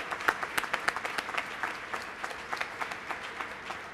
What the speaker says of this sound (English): Let's give a round of applause for the new commission.